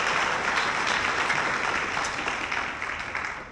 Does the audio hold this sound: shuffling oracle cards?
no